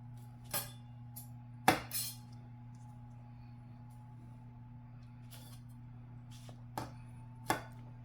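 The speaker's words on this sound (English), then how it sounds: "Chop real well." Onion being chopped on a board for a chicken pot pie, a handful of isolated knife taps spread out over a quiet background hum.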